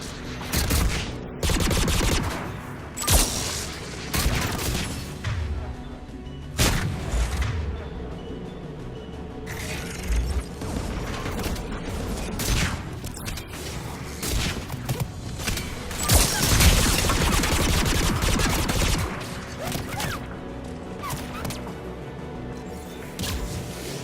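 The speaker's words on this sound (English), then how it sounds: "AA guns ahead." Anti-aircraft guns blaze in Mass Effect 3 on Rannoch, a dense, continuous barrage of heavy gunfire with booming bursts and crashing impacts that swell and ebb throughout.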